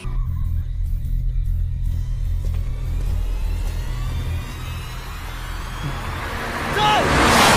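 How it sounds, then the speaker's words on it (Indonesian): A speeding car from an Indonesian film strikes a pedestrian on a road: a loud, steady low engine rumble builds over several seconds and ends in a sudden, harsh broadband burst of impact noise. "tiba-tiba ada mobil yang berjalan kencang dan menabrak Kanan hingga tewas"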